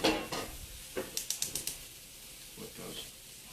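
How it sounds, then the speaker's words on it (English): Bacon sizzling with potatoes in a hot pan, a steady close frying hiss broken by a quick run of sharp clicks and taps as the food is stirred and moved, with low voices in the background. "Let that bacon just cook a little bit more."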